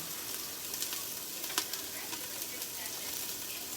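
Ingredients for a monggo (mung bean) dish sautéing in a pan, a steady, close hiss of frying with small crackles and a few sharper pops throughout, with no talk.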